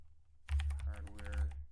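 Typing on a computer keyboard: a quick run of close, soft key taps after a brief silence, with a low thudding underneath.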